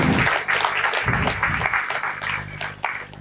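An audience at a stage event breaks into loud, sustained applause, dense clapping that swells at first and then gradually thins out, with a few voices faintly mixed in underneath.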